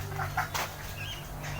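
Domestic pigeons nesting over their eggs give soft, faint coos and brief rustles, with a short flutter of wings in a quiet setting.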